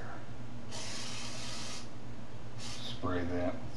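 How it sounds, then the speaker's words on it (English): Cooking spray hisses onto a pan in two short bursts, a longer spray followed by a briefer one, faint against a quiet kitchen background, with a voice starting at the end. "Spray that with the"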